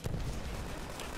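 A grenade explosion in the World War II shooter World at War: a short, dense, rumbling blast fills the whole moment at steady loudness, with no talk over it.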